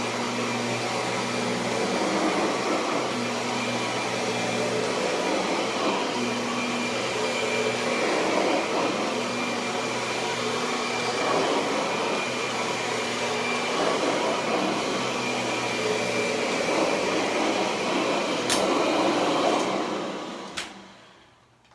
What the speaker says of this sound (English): I also used it on neutral setting when I'm vacuuming carpet